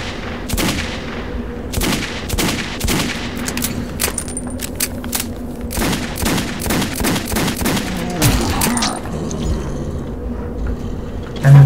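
Repeated weapon fire in the video game Metro 2033 comes as loud, rapid bursts and single sharp shots across the whole stretch, with mechanical clanks and game effects between them.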